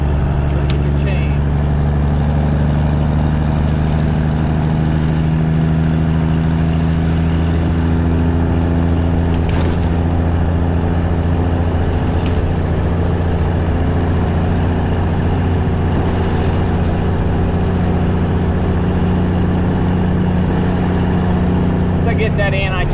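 A heavy cabover truck, a White GMC Volvo K100E, rumbles along with a loud, steady low engine drone and broad road noise throughout, broken by occasional jolts and rattles as it rolls over bumps.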